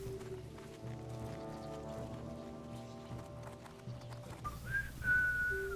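Someone tries to whistle, producing a thin, wavering tone near the end over steady background game music with faint clopping hooves.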